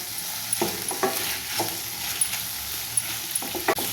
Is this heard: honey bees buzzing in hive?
no